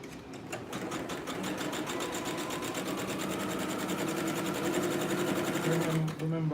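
A sewing machine runs a zigzag stitch in a fast, even, close mechanical chatter that speeds up slightly near the end, with a voice speaking over it.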